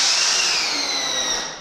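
Power drill driving a screw into timber, a loud close whine that winds down over under two seconds.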